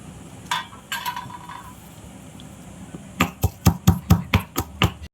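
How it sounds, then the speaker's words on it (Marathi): Garlic is pounded in a stone mortar and pestle, with a few scattered knocks early, then a quick run of about eight rhythmic, close thuds. "आता आपण हे खलबत्त्यामध्ये कुटून घेऊया"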